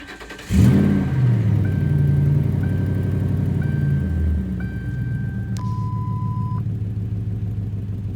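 A Crown Victoria's engine cranks and catches with a sudden roar after sitting unstarted for days, then settles into a loud rumbling idle with brief revs, accompanied by steady electronic chimes.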